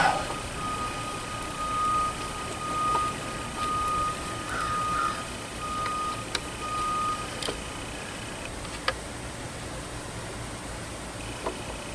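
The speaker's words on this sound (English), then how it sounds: "You can hear the bus in the background." A school bus reverses somewhere in the distance, its beeper sounding as a steady, faint series of tones over a quiet outdoor background with a few soft clicks and knocks nearby.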